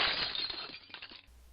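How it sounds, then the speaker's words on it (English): Frozen zombies shatter like glass in a loud crash of breaking shards that rings out, then scatters into fading tinkles over about a second before cutting to silence. "They shattered like a rose dipped in liquid nitrogen being smashed onto a table."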